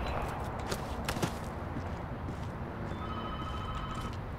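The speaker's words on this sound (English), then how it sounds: "the phone is ringing" A telephone rings in an office in the video game Ballistic Overkill, a faint electronic ring that is clearest in the latter half, under footstep-like clatter and steady background noise.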